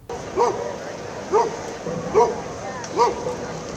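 Dogs bark in short, evenly spaced yelps at an outdoor adoption event at Gallagher Way in Chicago, four clear barks over a steady crowd murmur.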